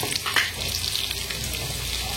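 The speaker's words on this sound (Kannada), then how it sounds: "ಗೋಲ್ಡನ್ ಬ್ರೌನ್ ಕಲರ್ ಫ್ರೈ ಮಾಡ್ಕೊಂಡ್ರೆ ಉಳ್ಳಾಗಡ್ಡಿ ಹಾಕೊಳ್ಳೋಣ್ರಿ" Onions frying in a pan as the base for chicken tikka biryani, a steady close hiss and crackle of sizzling oil running unbroken and fairly loud throughout, with no talking.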